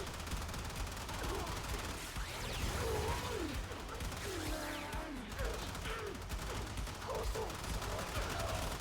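Dense gunfire from the sci-fi shooter game Warframe rattles continuously through the scene, rapid bursts layered with mechanical clatter, while a voice speaks over the firing.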